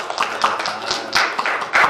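A church congregation breaks into welcoming applause, a dense, continuous patter of many hands clapping at close range, with louder swells of claps through the stretch.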